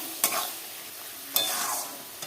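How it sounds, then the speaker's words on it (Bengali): Meat sizzles in a pan as it is stir-fried with salt, turmeric and chilli powder for biryani, with three sharp scraping stirs, each followed by a hissing fry that fades between strokes. "আমরা যেরকম মাংস কষি সেরকম করে কষেই করবো"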